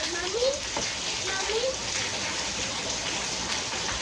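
Heavy rain from a passing hurricane band pours down in a steady, dense hiss that holds without a break, close and loud, with faint voices now and then underneath.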